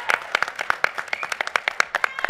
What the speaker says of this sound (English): a huge round of applause for Jenny